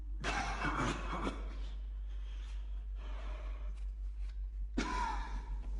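A Minecraft music disc from the video game plays close, strained breathing with gasps, sighs and snorts in uneven bursts, under a steady low hum and without any speech.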